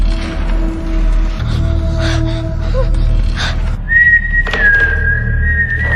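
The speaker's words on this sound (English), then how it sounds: "He slowly walked upstairs, whistling." A lone tuneful whistle, one thin sustained note drawn out near the end, heard over low rumbling background sounds.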